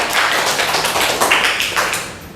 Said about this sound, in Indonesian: Tepuk tangan untuk Jocelyn